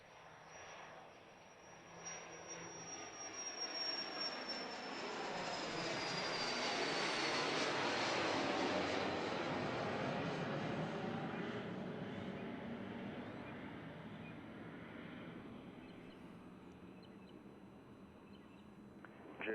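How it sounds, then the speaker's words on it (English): A Cessna Citation CJ3 business jet departs Dallas Love Field, its engine roar swelling to a loud peak mid-clip and then fading into the distance over several seconds, with no talking. "That was the aviation stylings of a Cessna Citation CJ3 off to Knoxville, Tennessee."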